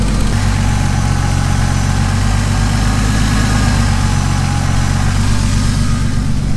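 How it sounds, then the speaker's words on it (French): A BMW E46 engine idles at roughly 900 rpm, a loud, close, steady low rumble with an even throb and no voices. "Je suis avec un ralenti à peu près 900 tours"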